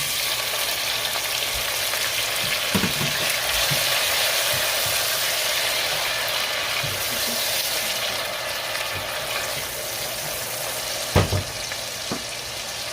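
Tomatoes go into a hot frying pan for ridge gourd curry, raising a steady, loud sizzle of oil that fills the whole stretch, with a few soft clinks of the pan and utensil now and then.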